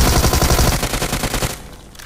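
Rapid automatic gunfire in PUBG Mobile, a loud close burst of dense repeated shots lasting about a second and a half before cutting off.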